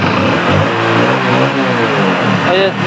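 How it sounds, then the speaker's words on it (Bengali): A Hero motorcycle engine runs steadily at idle, a mid-pitched continuous hum, while someone talks loudly over it throughout. "দেখেন আমি গাড়ি স্টার্ট দিয়ে দিচ্ছি এই সাউন্ডটা শুনেন সাউন্ডটা কিন্তু খুব সুন্দর আছে ইঞ্জিনের সাউন্ডটা দেখছেন"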